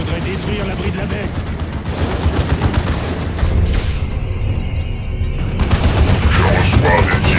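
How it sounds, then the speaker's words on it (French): Enemy gunfire and heavy booms in the video game Dawn of War 2 pound in loud, continuous volleys with rattling bursts and deep impacts, and voices talk over the battle. "Je reçois des tirs ennemis."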